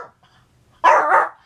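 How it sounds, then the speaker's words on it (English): A pet dog named Sundance gives one loud, sharp bark indoors, close by, after a short quiet pause. "They always seem to bark when they're on too."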